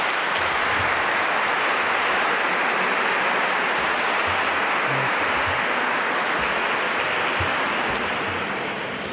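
Long, dense applause from a crowd at a peace caravan gathering in Como, Italy, honoring a display of lilies; continuous, even clapping that holds steady and loud, fading slightly at the end.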